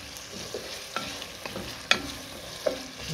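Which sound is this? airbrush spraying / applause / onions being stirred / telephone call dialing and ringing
onions being stirred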